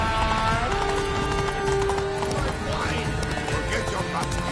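The horse Roach galloping in The Witcher 3, rapid steady hoofbeats, with a loud game soundscape, a brief whinny-like cry, and a character's voice calling out.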